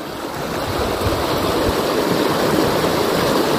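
The Tucunduba river at Córrego de Cima in Senador Sá, Ceará, flows with a loud, continuous rushing wash, steady and close, with some wind buffeting and no voices.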